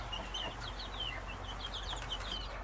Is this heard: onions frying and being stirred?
no